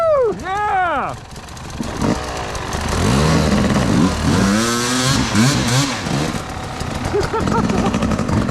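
Dirt bike engine revving and accelerating on off-road trails, a buzzing motor rising and falling in pitch throughout, close and loud, with excited voices shouting and cheering over it.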